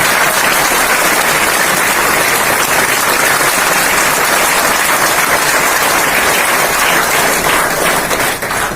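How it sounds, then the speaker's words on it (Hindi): Loud, dense applause from a seminar audience in a cinema hall welcomes a guest to the stage, a steady roar of many hands clapping that carries on without a break before easing slightly at the end. "जोरदार ताली के साथ इन्वाइट करता हूँ इनको"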